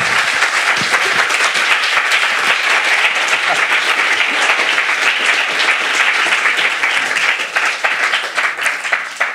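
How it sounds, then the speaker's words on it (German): An audience at a science slam breaks into sustained applause, dense clapping from many hands throughout, easing slightly toward the end. "Ein Applaus"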